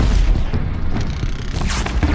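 A blast wire trap detonates in Horizon Zero Dawn, a loud booming explosion with a low rumbling tail filling the whole moment amid game noise.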